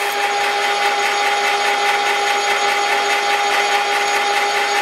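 Steady, even hiss of sandpaper rubbing a machined metal taper, continuous and close with a faint constant hum underneath, no pauses.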